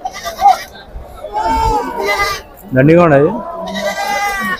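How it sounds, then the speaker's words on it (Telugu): Goats and young kids bleat loudly and close by at a weekly village livestock market in Mydukur, with several wavering calls breaking through as people talk nearby. "అన్ని మేకలు మేకపోతులు"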